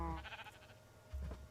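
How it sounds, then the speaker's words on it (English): Sheep in the Minecraft video game bleat in two short, close bursts, one at the start and another about a second later, with a quiet gap between. "I'm just putting the sheep away."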